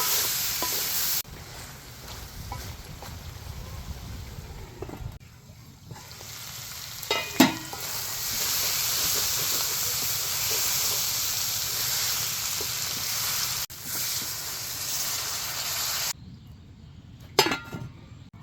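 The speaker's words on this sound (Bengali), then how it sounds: "সিম আর আলুটা সুন্দর করে কষে কষে খুব ভালো হয়" Flat beans and potatoes sauté in fish oil in a village-style pan, a loud continuous sizzle broken by brief pauses and scraping stirs, with a couple of sharp utensil clinks standing out.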